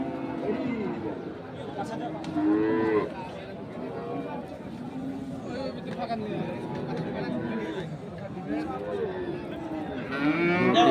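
Cattle, including bulls for Qurbani sale, low and moo amid a busy outdoor crowd at a cattle market in Chattogram, with people chattering and calling throughout.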